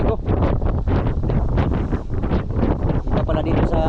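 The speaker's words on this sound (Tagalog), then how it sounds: "malabagyo ang hangin dito" Strong, storm-like wind in the Katyaw area on a trip from Mindoro to Navotas, roaring loudly and steadily with gusts buffeting the microphone throughout.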